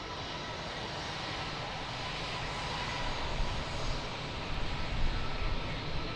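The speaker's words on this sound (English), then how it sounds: "That was a nice touchdown, wasn't it?" Air Canada Airbus A330 jet in Star Alliance livery landing at Lisbon Airport, a steady broadband engine roar that swells slightly toward the end, heard from a distance without any voices.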